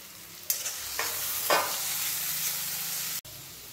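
Chopped onion and peanuts sauté in a hot pan for poha, giving a steady close sizzle broken by a few sharp stirring scrapes before the sound cuts off abruptly.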